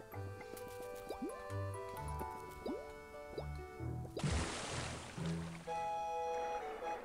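Water drips in the video game Wuppo, plopping and bubbling in a quiet watery scene with soft musical tones, followed by a brief rushing splash.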